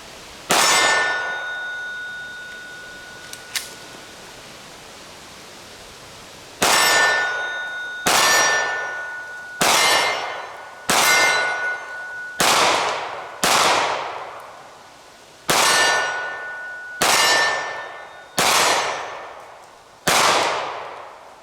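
Taurus G3C pistol shots striking steel targets outdoors, each crack followed by a bright ringing clang that fades slowly. One isolated shot comes first, then after a pause a steady string of about a dozen evenly spaced shots, loud and close.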